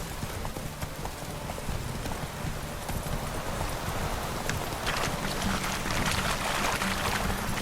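Horse hooves clip-clop at a steady gallop in The Witcher III video game, a quick rhythmic pounding that runs continuously under light wind and occasional faint background sounds.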